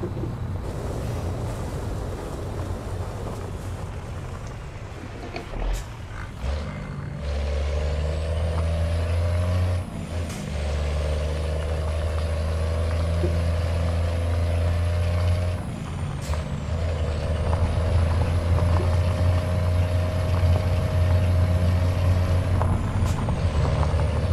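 A Volvo VM 330 truck engine in Euro Truck Simulator 2 drones steadily with a low rumble, broken by a few brief air-brake hisses and pauses, loud and close throughout.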